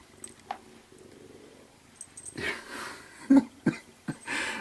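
A cat purrs in a low, steady rumble close up, broken by soft snuffling and breathy bumps, with a few sharper knocks and rustles toward the end.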